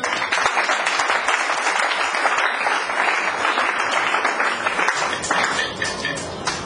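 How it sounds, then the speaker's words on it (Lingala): A church congregation applauds loudly, dense clapping filling the room continuously from start to finish with no break. "Acclamez très fort le Seigneur"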